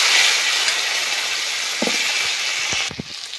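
Pieces of taro frying in hot oil give a loud, steady broadband sizzle that suddenly drops quieter near the end, with a few light clicks and clatters of the pan.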